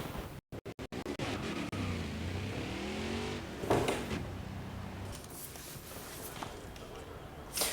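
A Rackley Toyota race truck engine at Texas Motor Speedway in the NASCAR Heat 5 video game, with a steady engine drone and a rising rev swell, preceded by a few sharp clicks.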